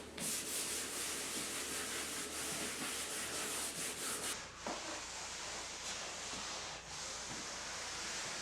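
Cloth rubbing and wiping excess wood stain off a mid-century modern credenza, a steady close scrubbing hiss that runs throughout, with a brief pause and shift in stroke partway through; no talking.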